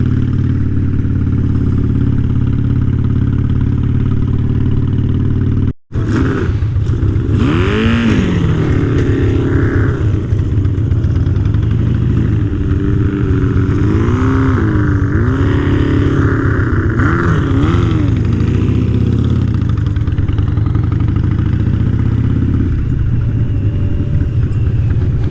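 Harley-Davidson Sportster motorcycle cruising along a road near Gatlinburg, its engine droning loudly and steadily with rising and falling revs throughout, a brief drop-out early on, wind rush over the riding noise.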